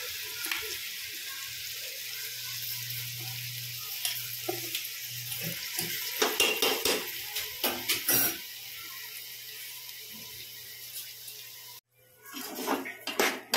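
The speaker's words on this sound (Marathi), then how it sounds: "यामध्ये आपण जो राईस घेतला होता तांदूळ तो ॲड करायचा आहे। धुवून घेतलाय तांदूळ।" Washed rice is tipped into a pot of frying matar pulao and stirred, giving soft sizzling and a run of clattering, scraping mixing sounds before a brief pause and more stirring.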